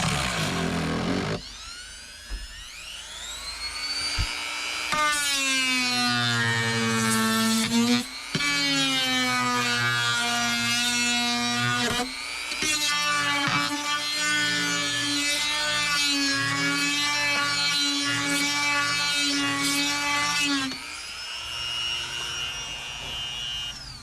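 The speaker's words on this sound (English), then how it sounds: "just take your Dremel and make a couple passes" Dremel rotary tool cutting strands during an interior upgrade on a 1980-1996 Ford Bronco, a loud high-pitched whine that rises and falls in pitch through several long passes, close and with no talk.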